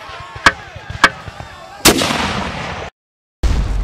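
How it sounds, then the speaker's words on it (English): Artillery fire in the Napoleonic battle game Scourge of War: Waterloo, cannons bombarding French cavalry: two sharp booms, then a heavier roaring blast that rumbles on, a brief silence, and another loud burst starting. "As the artillery bombardment of the French cavalry continued"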